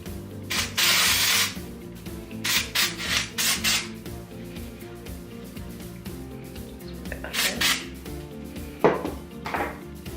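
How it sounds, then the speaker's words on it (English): Several short hissing dry shampoo aerosol sprays aimed at hair roots come in bursts, separated by soft rubbing and handling noises, close and fairly quiet. "And then you just want to spray it at the top of your roots."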